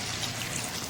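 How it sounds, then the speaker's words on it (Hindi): A short splash of water is poured into a pan of chicken as it cooks down for a creamy gravy, a brief continuous liquid rush close to the microphone. "मैंने इसमें डालना है थोड़ा सा पानी।"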